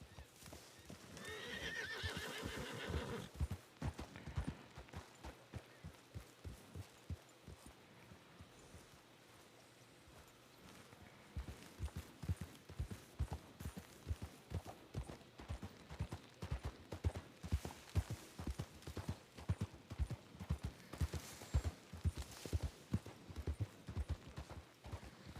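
A horse in Red Dead Redemption 2 (RedM roleplay) whinnies loudly near the start, then its hooves clip-clop in a steady walking rhythm, pausing briefly before resuming, close and clear.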